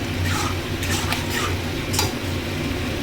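A spoon stirs pineapple chutney cooking down in a pan: a steady close bubbling hiss broken by scattered scrapes and light clinks against the metal.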